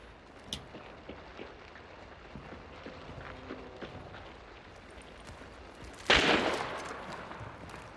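Enemy gunfire in Hunt: Showdown: faint, distant shots pop now and then across a quiet field, then one loud, close report cracks out and trails off in a long echo.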